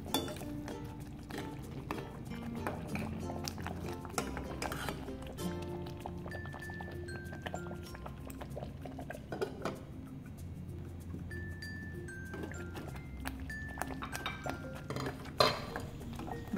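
Besan pithla cooking in a covered pot with a spoon stirring it, with scattered metallic clinks and scrapes of utensil on pot over a steady low kitchen hum, no talking.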